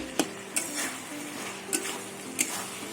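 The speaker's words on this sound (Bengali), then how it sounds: "ঢেকে ঢেকে আমি পুরো কষিয়ে নেবো কষাতে কষাতে তেল ছেড়ে দিয়েছে" Fig curry masala being stir-fried in a pan until the oil separates: a low sizzle under several sharp, separate scrapes and taps of a spatula against the pan.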